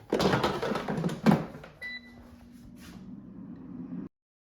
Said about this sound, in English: And now let's put it back in the air fryer and let it finish cooking.